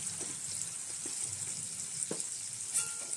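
Mango chutney frying in oil in a pan, a soft steady sizzle with faint stirring scrapes and a couple of small clinks, quiet and close with no talking.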